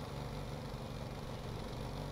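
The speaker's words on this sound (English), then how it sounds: "You hear it's kind of the engine going la la la la la la la la." A vehicle engine in the Stormworks video game sits against its rev limiter, giving a continuous, buzzing drone with a fast, rough pulsing texture, steady and moderately loud with no other sounds.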